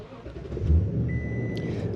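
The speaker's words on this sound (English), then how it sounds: "So let me start the truck." Pickup truck engine cranking and catching, a low rumbling burst that settles into a steady idle, with a faint high tone and brief vocal noise in the background.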